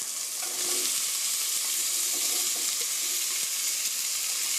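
Chili powder toasting in oil in a pot as sliced onions go in, a steady bright sizzle up close with light stirring scrapes and small crackles throughout.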